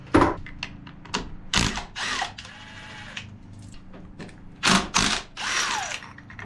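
A hand ratchet works on a dirt bike clutch lever, giving repeated clicking bursts of pawl against gear with short pauses between strokes, close and fairly loud with no talk.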